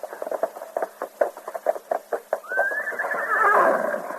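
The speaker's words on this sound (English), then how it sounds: "Here's my horse." A horse neighs loudly and close, a long rising whinny following a series of rhythmic snorting, clip-clop-like pulses.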